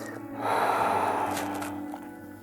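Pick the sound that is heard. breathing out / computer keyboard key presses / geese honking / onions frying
breathing out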